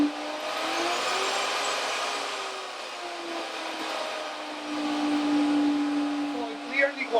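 A handheld router motor drops its whine as a variable speed control is switched in, a steady tonal hum held for several seconds before brief sharper noises at the end, with no talking.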